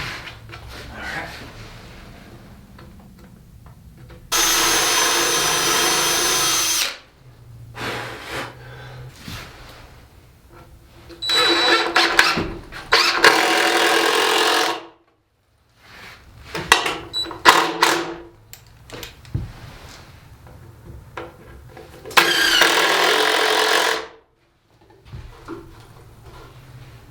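A drill drives 3-inch screws into the wooden frame of a homemade cat scratching post, in three loud bursts of about two to three seconds each, with workshop handling noises and clatter between them.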